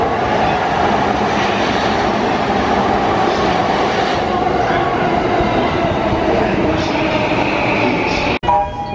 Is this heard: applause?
no